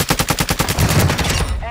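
Rapid automatic gunfire in a competitive shooter video game, with steady repeated bursts close and loud throughout, broken by a brief pause near the end.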